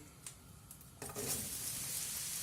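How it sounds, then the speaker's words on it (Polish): Quiet background with a few light taps, then mushrooms hit a hot pan and a steady close sizzle of frying takes over. "Podsmażamy pieczarki."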